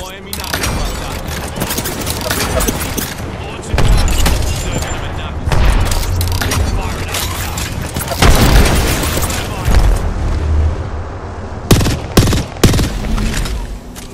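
Rapid bursts of video game gunfire and booming impacts come in dense volleys during a team shooter match, loud and close, while players call out to each other over them.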